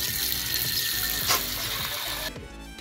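A household tap runs steadily with a dense, loud splashing rush as water is changed for a pet parrot, the flow cutting off near the end.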